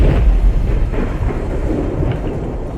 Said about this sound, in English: It's just hearing it like thundering around you, man.